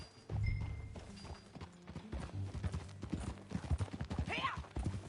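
Hoofbeats of a ridden horse in a video game, a brisk repeated clip-clop close by, with a short whinny-like call near the end and faint background sounds.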